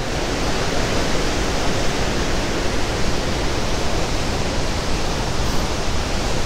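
A mountain waterfall and stream rush together on a trek near Pokhara, giving a loud, dense, unbroken roar of water close by with no voices.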